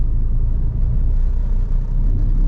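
A manual car's engine drones steadily at moderate revs while pulling away on an uphill start in second gear, a loud continuous low rumble with no talking.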